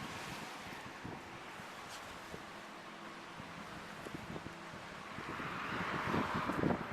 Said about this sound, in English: on the bridge, it's nice and breezy here